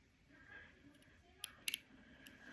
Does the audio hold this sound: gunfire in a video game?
no